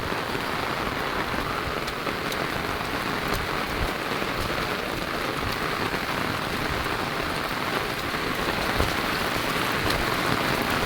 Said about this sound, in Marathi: एक भयंकर पाऊस आहे